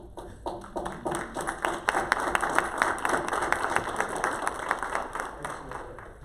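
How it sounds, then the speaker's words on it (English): A small group at a school district board meeting gives a brief round of applause, scattered clapping that swells and lingers at moderate distance, fairly quiet in the room. "it's a small clap, but you deserve a big clap"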